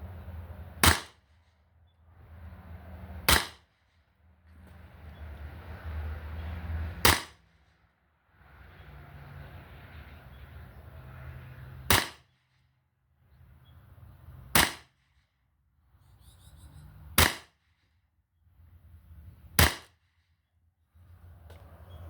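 A Beeman BP50 CO2 air pistol, fed by a remote line adapter from a CO2 tank, fires seven sharp, snappy shots at a paper target 15 feet away, each a lone crack separated by a few seconds of quiet.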